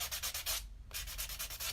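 A hand nail buffer rubs over dip powder nails in quick, close, rhythmic strokes, a soft scratchy sanding with a brief pause midway and no voices.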